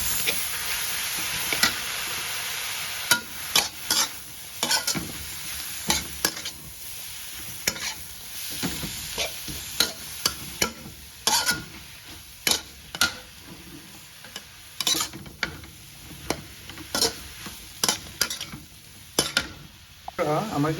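Greens and mixed vegetables being stirred and fried in a pan for a half-boiled vegetable bhaji, with steady sizzling under repeated scraping, clattering strokes of the spoon throughout.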